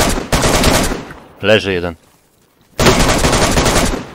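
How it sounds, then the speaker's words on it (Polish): Gunfire in the survival video game DayZ: two long, loud bursts of rapid automatic shots, split by a short gap where someone speaks briefly. "No słyszałeś strzały, nie?"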